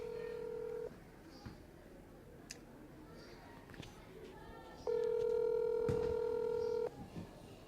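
Telephone call being placed: a short tone, a series of faint keypad dial beeps, then a steady ringback tone, quiet and close with faint background noise.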